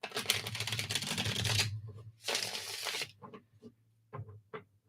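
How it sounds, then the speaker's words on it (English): A deck of tarot cards is riffled and shuffled by hand in two long, dense bursts of rapid fluttering, followed by a few short card taps, close and alone. "That was a lot of cards. Let me shuffle this up here."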